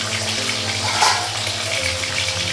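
Fish in oil in a covered wok boils hard, giving a steady, close rushing hiss with a low hum underneath, alone and without talk.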